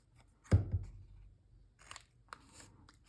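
Scissors cut across the top of paper tags for journaling, a crisp close snip followed by a few quieter clicks and paper rustles in a quiet room.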